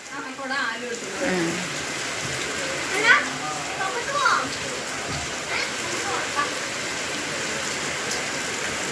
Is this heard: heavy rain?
yes